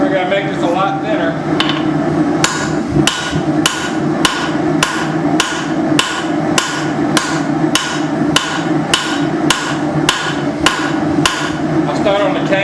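Heavy hammer blows ring out steadily on a spring steel cleaver blank being thinned and stretched over an anvil at the forge, roughly two strikes per second, loud and close, with a voice speaking between blows.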